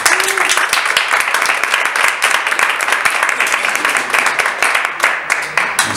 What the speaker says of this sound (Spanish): Un fuerte aplauso a José Miguel Gordillo en la batería.